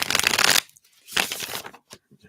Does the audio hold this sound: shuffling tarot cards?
yes